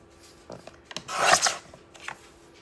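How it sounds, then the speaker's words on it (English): An old, rusty Creative Memories paper trimmer slicing through paper, a brief close rasping slide with a few light clicks around it, no speech. "Here's my trusty rusty little Creative Memories trimmer, and boy, it's hard to see where to cut"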